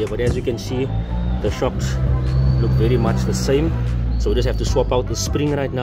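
Steady low traffic rumble from a busy main road runs continuously beneath someone talking close up while he swaps the springs onto new struts for a Toyota Etios 1.5 VVT.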